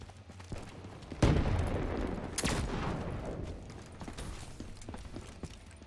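Gunfire rattles through a Call of Duty Black Ops III match: sharp shots and a heavy blast over a busy, noisy game soundscape, with several loud cracks standing out from the steady mix.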